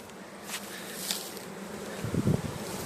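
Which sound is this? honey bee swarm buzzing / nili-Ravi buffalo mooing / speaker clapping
honey bee swarm buzzing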